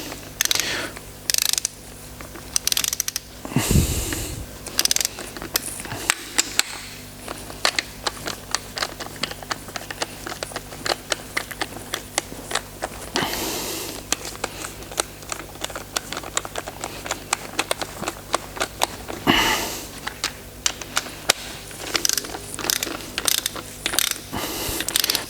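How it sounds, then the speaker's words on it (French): A torque wrench set to 15 Nm ratchets steadily while tightening bolts during timing chain and engine repair on a BMW X1 23d, with rapid, even clicks close up and a few heavier knocks. "après cela je les serre à 15 Nm"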